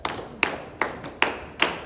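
A classroom of students clap their hands together in five sharp, evenly spaced bursts, each a crisp slap with a short decay, fairly close and moderately loud.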